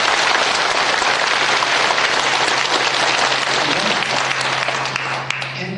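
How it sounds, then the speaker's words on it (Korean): A church congregation at a Methodist church breaks into vigorous, dense applause, loud and continuous throughout, fading slightly at the very end as a low hum lingers underneath. "우리 하나님께 감사의 영광의 박수 힘차게 하고 싶습니다"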